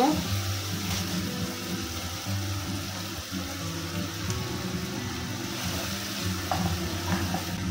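Bean paste stirred into shrimp frying in a pan, giving a steady sizzle with scraping stir sounds and a low kitchen hum throughout.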